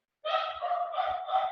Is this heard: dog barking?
yes